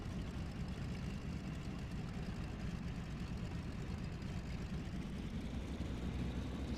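Constant low drone of an A6M5 fighter's piston engine in the IL-2 Sturmovik flight game, a steady unbroken roar with no voices.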